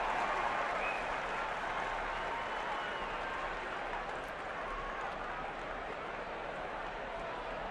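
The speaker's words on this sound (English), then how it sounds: "A smattering of applause for his second at bat." A ballpark crowd at a Cleveland Indians at Chicago Cubs baseball game gives a faint, distant smattering of applause for a batter, a soft, steady wash of crowd noise.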